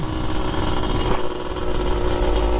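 Close by, the engine of a Yamaha RX King motorcycle at a Makassar restoration workshop runs steadily with a rough, raspy idle and slight fluctuations, and no voices.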